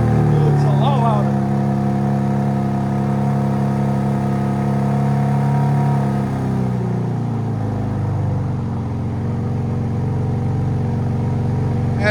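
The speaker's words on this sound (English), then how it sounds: "BMW M3 competition with a Dinan X-pipe. It replaced the double resonators right there." A 2025 BMW M3 Competition with a Dinan X-pipe and resonator delete rumbles with a loud, steady exhaust drone whose pitch climbs and then settles, with people talking over it.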